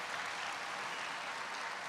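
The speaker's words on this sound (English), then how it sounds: "I guess that was what that big applause was" Steady applause from an audience at an event on protecting America's seniors. The clapping is dense and even, heard from a distance without a break.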